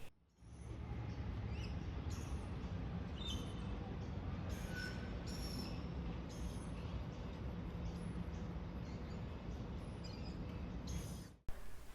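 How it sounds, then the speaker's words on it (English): Sydney Waratah train rolling over points on the track at North Sydney, a steady loud rumble of wheels on rails with faint high squeals sustained throughout, cutting off sharply near the end. "And now the rear of the train is crossing over as well."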